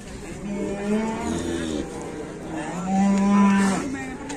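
Large cattle mooing loudly nearby at a market, two long low bellows separated by a short pause, with faint background noise.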